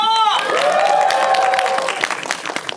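A crowd cheers and applauds loudly and steadily at a cinema stage greeting for the film 30 Days, a roaring wash of noise with a single voice speaking over it.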